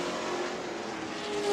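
NASCAR trucks race at New Smyrna Speedway in Florida, a dense, loud blur of engines roaring together on the oval, steady and unbroken, swelling slightly as the pack charges into a turn.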